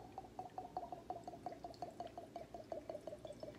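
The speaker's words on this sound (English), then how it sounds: "let's start pouring" Alcohol being poured into a hidden container gives a faint, steady trickle of quick liquid glugs and drips, close and quiet, with no talking.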